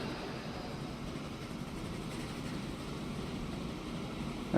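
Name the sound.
locomotive train running in Transport Fever 2 video game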